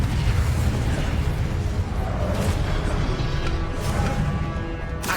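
Casting the Incendio fire spell in Hogwarts Legacy unleashes a sustained, loud roaring burst of flame that stays dense and steady for several seconds, with no talking.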